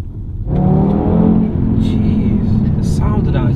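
A car engine revs up and accelerates, a loud, steady exhaust roar rising in pitch and holding, close by, with no speech.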